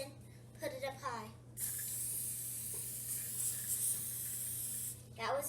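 Cooking spray from an aerosol can coating a baking pan, one sustained bright hiss lasting several seconds, close and loud, with brief talk just before and after it.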